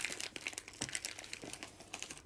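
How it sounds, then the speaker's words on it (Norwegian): A very tough plastic bag from a Temu parcel is crinkled and handled during an unboxing, making close, rapid, irregular crackles and rustles that continue throughout without talking. "De kom i verdens seigeste plastpose."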